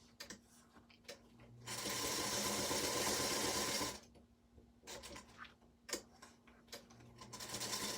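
A sewing machine stitches through paper with black thread. It runs in two steady, buzzing bursts, one longer stretch in the middle and a second starting near the end, with short quiet pauses and faint handling clicks between them.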